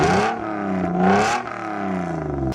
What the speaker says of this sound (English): the RB series engine sounds awesome